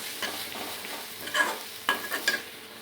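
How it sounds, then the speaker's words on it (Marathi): Boiled black chickpeas are stirred and sautéed in a cooked onion masala in a pan, giving quiet scraping stirs over a soft sizzle, with a few sharper spoon strokes near the end. "हे या मसाल्यामध्ये जरा परतूया."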